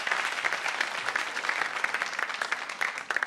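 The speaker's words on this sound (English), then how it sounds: "So let's have like a round of applause just for ourselves." Steady, crowded clapping fills the hall as an audience applauds itself at a talk show event, continuous and fairly close with individual claps standing out.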